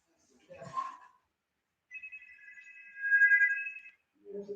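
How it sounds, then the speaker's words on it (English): A telephone ringing for an incoming call, a single electronic trill lasting about two seconds between brief bits of other sound in a quiet room. "Phone call."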